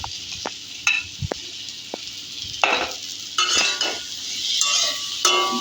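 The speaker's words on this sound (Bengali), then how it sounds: "এবার ভেজে রাখা আলুগুলো দিয়ে দেব।" Potatoes and tomato fry in spice masala in a pan with a close, bright sizzle, while a utensil stirs and clinks against the pan in irregular bursts.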